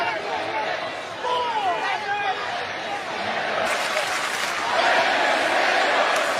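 A dense wrestling arena crowd roars and cheers during a SmackDown match with Rey Mysterio and Kevin Owens, the noise swelling louder toward the end, with a commentator talking over it.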